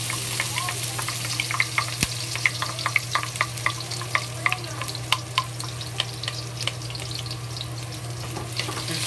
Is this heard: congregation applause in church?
no